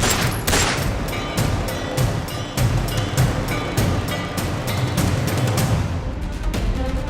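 A dense hail of bullets as a gunfire sound effect, rapid overlapping shots crackling continuously and loudly for several seconds before cutting off near the end.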